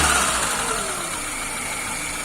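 A car engine idles steadily and close by through a Solex 21083 carburetor fitted with gas inlets, with a plug in place of the electromagnetic valve. The idle holds an even, continuous hum with no voices over it.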